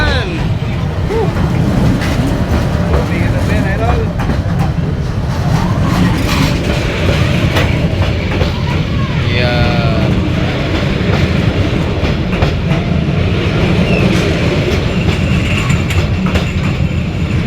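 Inside a moving train carriage, a continuous loud rumble carries steady clickety-clack and occasional metallic squeals, with voices talking over the noise.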